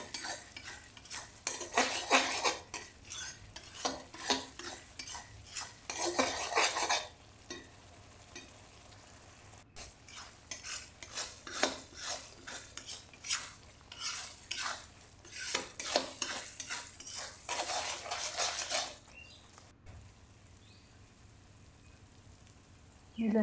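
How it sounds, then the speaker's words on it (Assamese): A utensil scrapes and stirs tomatoes frying in a pan for Assamese fish curry, with steady sizzling and repeated bursts of stirring separated by brief pauses. "ঘন ঘন লাৰি থাকিব, নহলে তলত লাগিব পাৰে।"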